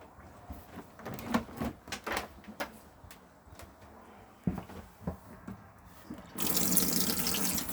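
Water starts running from the opened hot taps aboard a 2014 Swift Archway Sport caravan, coming in as a steady rushing hiss at the end after a run of scattered clicks and knocks.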